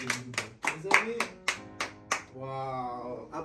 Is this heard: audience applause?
yes